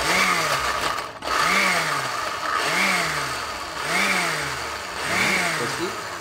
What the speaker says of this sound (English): Blend away